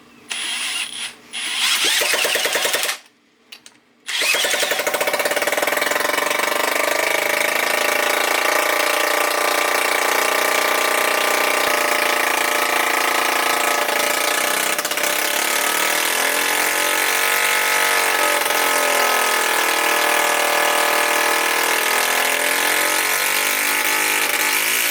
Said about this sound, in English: Just go ahead and crank it over.